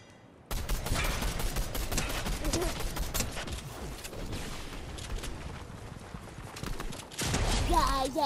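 Gunfire in the Fortnite video game rattles in dense, sustained volleys, loud and close, with clattering hoof-like thuds and a brief lull before a final heavy burst.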